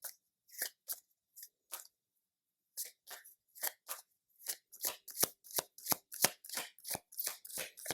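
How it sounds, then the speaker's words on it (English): Tarot cards are shuffled close up in crisp riffling bursts, sparse and hesitant at first, then quickening into a rapid, regular run of slaps and flutters, with no voices. "I am going to pull out a few tarot cards to see"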